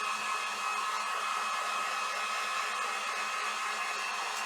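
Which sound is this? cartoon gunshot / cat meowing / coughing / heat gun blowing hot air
heat gun blowing hot air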